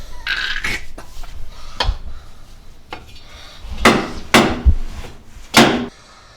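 Hammer blows ring out at work on a 1964 rat rod lowrider, several sharp metallic strikes spaced irregularly, the last few louder and closer.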